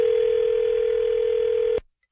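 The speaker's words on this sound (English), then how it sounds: "You don't hang no damn phone up on me" A steady telephone dial tone hums after a caller hangs up, continuous and even for nearly two seconds before cutting off abruptly into silence.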